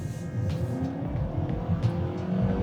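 A 2024 Nissan Sentra SV with a CVT accelerates at full throttle, its engine droning loud and close with a steady rising pitch and no one speaking.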